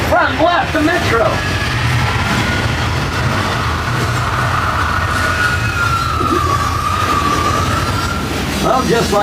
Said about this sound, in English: Front left, the metro.